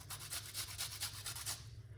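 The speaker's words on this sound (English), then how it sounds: "you wanna grate this purple onion like this" A purple onion is rubbed quickly against a grater in about nine rapid, rasping back-and-forth strokes, close but soft, with a low hum underneath before the scraping stops.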